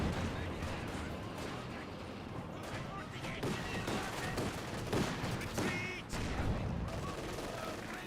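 Rifle and machine-gun fire crackle through a Company of Heroes 2 battle, with scattered bursts and distant booms under continuous commentary.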